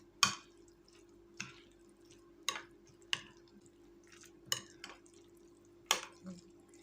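Coleslaw ingredients are stirred in a bowl, with about eight soft, wet clacks of the spoon spaced unevenly over a quiet background.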